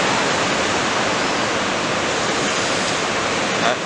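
Surf breaking at Anglet beach on the Basque coast, a steady, loud broadband wash of crashing waves and foam with no pause, filling the whole stretch without voices.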